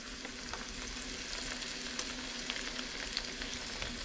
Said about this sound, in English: oh, it's starting to sizzle